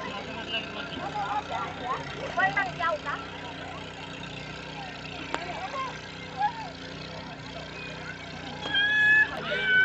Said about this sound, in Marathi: तर आता बोट पण जवळ आलेली आहे